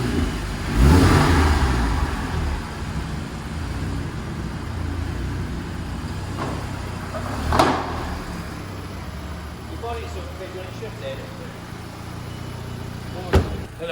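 Volkswagen GTI tuned to 350 bhp, just back together after a crank sensor repair, revs and accelerates nearby with a steady engine drone, a couple of sharp bursts and faint voices in the background.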